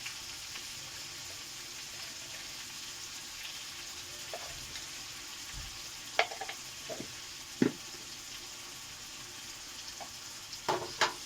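A spiced potato mixture with salt, turmeric, green chili, ginger and black pepper sizzles steadily in a pan while being sautéed, a continuous close frying hiss broken by a few sharp clinks of a stirring utensil.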